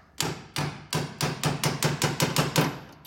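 Hammer tapping a bolt into place on Ford truck rear suspension during a 2-inch lowering job, about ten sharp metallic taps in a steady, quickening rhythm, close and fairly loud with no talking.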